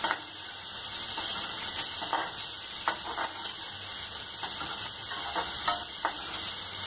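Onions fry in a pan for leftover chapati noodles, a steady close sizzle with occasional stirring scrapes and soft crackles, no voices over it.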